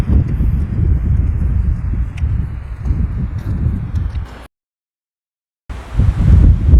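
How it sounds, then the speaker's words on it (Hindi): A cool wind blows steadily past an outdoor microphone on the way to a temple, a low, rough rushing that drops out into a brief gap and then resumes. "अभी बड़ी मस्त ठंडी ठंडी हवा चली हुई है।"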